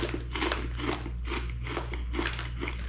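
Crunchy bites into an orange-coloured Filipino tortilla-style snack chip, several close crisp crunches in a steady chewing rhythm over a low steady hum, with no talking.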